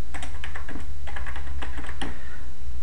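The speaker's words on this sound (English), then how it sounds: "I'm going to type configuration terminal" Keystrokes on a computer keyboard as a router configuration command is typed, a run of quick, close clicks in irregular bursts with a steady low hum beneath and no talk.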